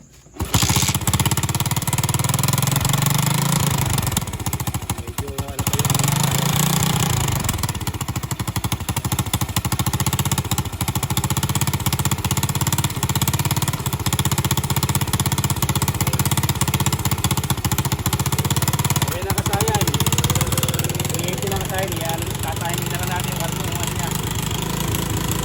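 A stock Rusi 110 Fury motorcycle engine catches and then runs at a steady, loud, rattling idle for about twenty-five seconds, with a brief change in pitch near the end and a voice faintly underneath.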